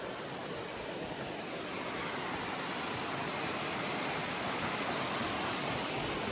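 Laurel Creek flowing along the Appalachian Trail, a dense, constant broadband rush of moving water that stays loud and even throughout with no voices.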